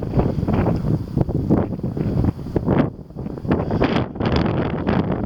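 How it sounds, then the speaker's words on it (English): Gusty wind battering the mic in loud, uneven bursts, a rough low roar that swells and dips, with no voices. "very windy, so audio not perfect."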